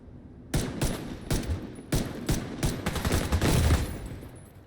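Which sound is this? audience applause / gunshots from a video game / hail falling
gunshots from a video game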